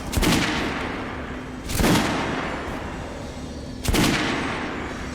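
Three loud gunshots at a shooting range in the Metro Last Light video game, spaced about two seconds apart, each a sharp crack followed by a long echoing tail.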